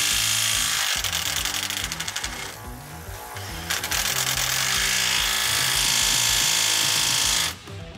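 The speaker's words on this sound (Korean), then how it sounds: "첫 번째 M18FIW2 콤팩트 임팩트 렌치 현장으로 가보겠습니다." A Milwaukee M18 FUEL compact 1/2-inch impact wrench (M18FIW2) working on a job site gives loud, rattling bursts of rapid hammering that run almost continuously for several seconds, with brief changes in intensity and no talking.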